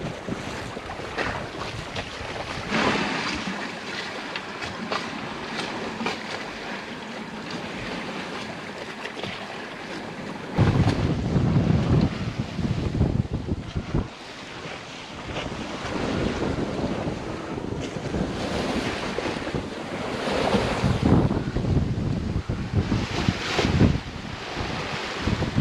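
A sailboat cruising at about four knots on open water bound for Panama City, Florida, with steady wind buffeting the microphone and waves washing against the hull in a continuous roar, no voices.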